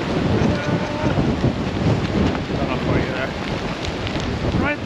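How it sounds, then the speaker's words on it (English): Gusty wind buffets the microphone outdoors on a wet camping hike, giving a constant low rumble and blustery roar throughout. "because it's a bit gusty, yeah"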